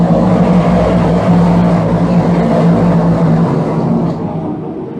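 DIRTcar 358 modified race cars roar on the dirt oval at Can-Am Speedway, a dense, steady pack of engine drone holding loud throughout before easing slightly near the end.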